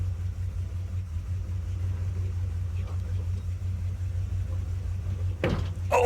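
A vintage tractor engine rumbles steadily at low pitch as it is driven, a close continuous idle-like thrum with a brief clunk near the end.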